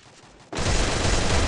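A burst of rapid gunfire in the video game Free Fire, starting abruptly and continuing as a loud, dense volley.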